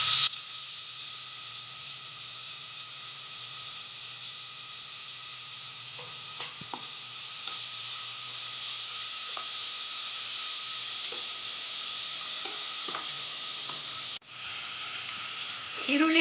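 Onions and green chillies frying in oil for egg biryani, giving a continuous, even sizzle with light stirring taps scattered through it; a voice talks over the frying.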